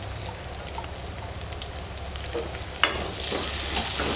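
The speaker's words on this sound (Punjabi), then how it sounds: "ਬਸ ਇਕੱਲਾ ਪਿਆਜ਼ ਆ ਜਸਟ ਲੋ ਨੂੰ ਆਪਾਂ ਭੁੰਨ ਲੈਨੇ ਆ ਪਿਆਜ਼" Onion frying with cumin in a pan gives a steady close sizzle, broken by faint stirring scrapes, then swells into a louder, brighter hiss near the end.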